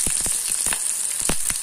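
Coriander seeds and cumin frying in a hot pan for Andhra-style chutney give a steady close hiss, broken by several sharp crackles and pops at irregular moments.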